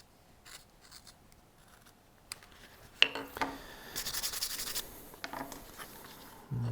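Hand-carving the bottom lip of a wooden Christmas tree ornament, rounding it with a blade, gives quiet, close scraping and rasping strokes, sparse at first and then a denser, louder stretch of shaving.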